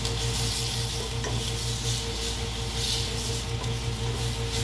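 Onion sizzling in a soup pot of olive oil while being stirred, a steady close frying hiss with scraping stirs and a faint clink or two throughout, no talking.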